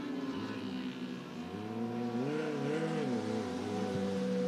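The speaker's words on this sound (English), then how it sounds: "Kyle Pope spinning out here on the front straightaway." Race car engine on a dirt oval at Cottage Grove Speedway during qualifying, steady loud roar with the pitch rising and falling as the car spins out on the front straightaway.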